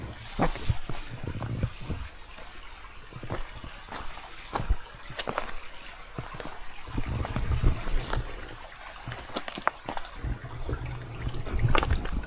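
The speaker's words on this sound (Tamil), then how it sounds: "ரொம்பவே அழகான ஒரு சின்ன க்ரீக் போகுது" A small creek trickles and flows steadily outdoors near Maryvine Falls on Vancouver Island, Canada, with scattered small splashes and knocks over a continuous babbling wash.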